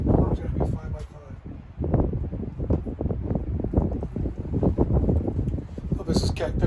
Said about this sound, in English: The wind blowing pretty good right now.